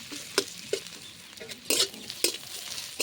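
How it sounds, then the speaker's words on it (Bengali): Chopped onion frying in a pan over a village-style stove, a soft steady sizzle broken by several sharp scraping stirs of a utensil against the metal, close and alone. "পেঁয়াজ কুচি দিয়ে দেবো, পেঁয়াজটা হালকা লাল লাল করে ভেজে নেব।"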